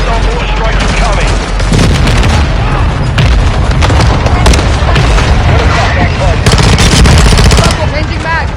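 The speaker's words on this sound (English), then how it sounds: "Hostile mortar strike near your position. Hostile mortar strike incoming." Mortar strike explosions and rapid machine-gun fire fill a Call of Duty Modern Warfare 2 battle, dense, loud and continuous booms and bursts with game voice chatter mixed underneath.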